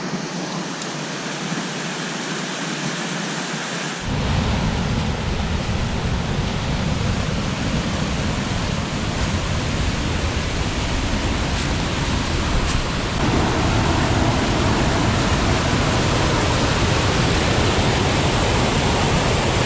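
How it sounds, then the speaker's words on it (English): A large-volume waterfall in Algonquin Park thunders as a loud, unbroken roar of pouring water, close and steady, growing fuller after the first few seconds with no voices. "It's loud, but there's an absolute crap ton of water coming down right now"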